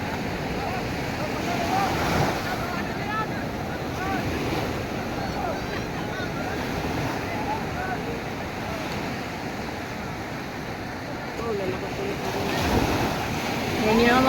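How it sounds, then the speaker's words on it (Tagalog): Ocean waves wash and surge at sea beside a boat, with heavy wind buffeting the microphone. A continuous, rough roar swells at intervals and peaks near the end. "Tignan nyo po guys ang alon."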